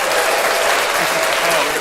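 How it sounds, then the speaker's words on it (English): Audience applause at a live music show after a band's performance, steady dense clapping filling the room with no gaps, fairly loud and close. "give you one more round of applause here"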